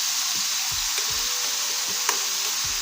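Chicken malai boti frying with green chili paste in a pan over a slow flame, giving a steady, close sizzle with a few faint stirring clicks and scrapes.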